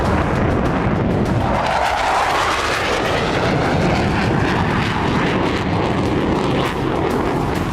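An F-35 fifth-generation fighter jet flies past with a loud, continuous, roaring engine rumble that holds steady and close throughout, with no talking.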